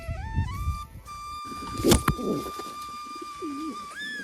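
Pigeons being released to fly give soft throaty coos and calls, with a burst of wing flaps and fluttering mid-way, close and fairly loud against a quiet outdoor background.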